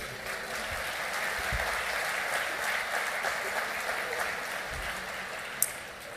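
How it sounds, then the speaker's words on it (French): Steady applause from a crowd at a municipal New Year's wishes ceremony in Mandelieu-La Napoule, continuous clapping throughout with a few louder claps standing out near the end. "Vous pouvez applaudir, monsieur le sous-préfet."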